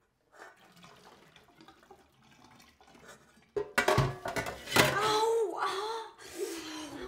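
Slow-running cool tap water splashes into a sink, loud and close, after a quieter, murmuring opening, with clinking sounds mixed in during the later seconds.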